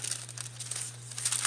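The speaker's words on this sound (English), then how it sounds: "I'm just going to put a piece of wax paper" A sheet of wax paper crinkles and rustles close by as it is laid onto a journal page, a continuous papery crackle over a low steady hum.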